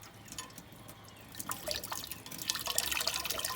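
Water drips and trickles softly as a coiled mosquito coil is soaked in water, with faint splashy patter growing slightly louder toward the end, close by and without speech.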